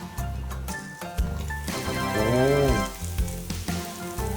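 Korean potato pancake fries in a waffle pan with a steady, close crackling sizzle, while a voice briefly hums or speaks over it partway through.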